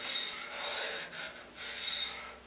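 A paper blade honed with slow back-and-forth passes on a sharpening stone, giving a steady broadband rasping scrape in close, quiet strokes with brief pauses between passes.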